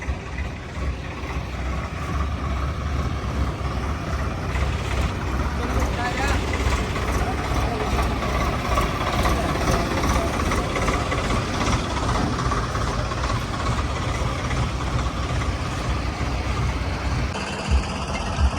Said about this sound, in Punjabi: ਇਹ ਦੋ ਟਰੈਕਟਰ ਆ ਗਏ ਸੱਤ ਅੱਠ ਟਰੈਕਟਰ ਜਾਣਾ ਨੇ